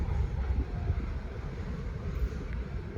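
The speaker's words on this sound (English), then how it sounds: "And that's the end of that Herzog train from CSX" A CSX Herzog freight train rolls past outdoors, a steady low rumble and rush of rail noise with some wind buffeting, continuous and moderately loud without voices.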